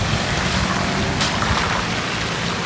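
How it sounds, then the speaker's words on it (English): Strong Tropical Storm Lee winds in Yarmouth, Nova Scotia: a continuous loud roar of gusting air and rushing noise, with a brief sharper burst midway and no voices. "It is super crazy windy here, almost to the eye, I'm thinking."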